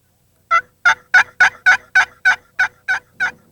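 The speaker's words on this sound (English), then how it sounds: "Brad's calls were met with a thunderous return gobble" A wild turkey gobbles in a rapid run of about eleven loud, close, evenly spaced throaty notes, with no other sound between them.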